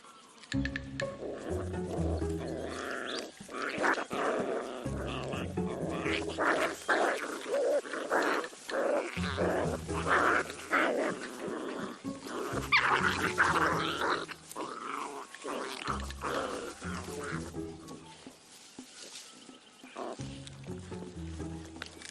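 Young dingo puppies growl and snarl as they tussle for dominance, rough close guttural bursts coming in waves with brief pauses, loud and continuous across the scene.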